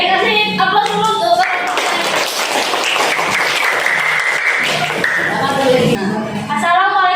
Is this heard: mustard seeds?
no